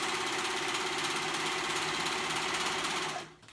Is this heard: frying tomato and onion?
no